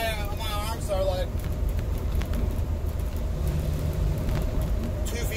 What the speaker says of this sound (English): I have a 15-foot U-Haul truck that I'm driving, and it's full.